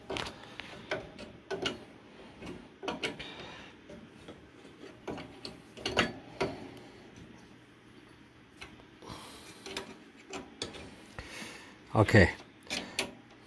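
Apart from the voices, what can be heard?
antenna part being turned and threaded onto a nut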